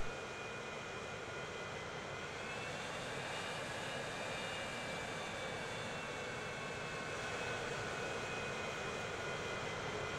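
Airplane taking off in the transport simulation game Transport Fever 2, a steady roaring jet engine with a high whine, constant and fairly loud throughout with no talking.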